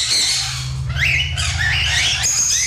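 A pet bird gives loud, harsh squawks and raspy calls close by, several bursts in a row over a steady low hum in the background.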